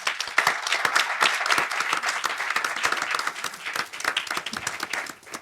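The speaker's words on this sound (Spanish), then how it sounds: "otro aplauso para ellas, por favor" Panel audience giving a round of applause for women lawyers, close, crisp individual claps blending into a lively steady ovation that thins out toward the end.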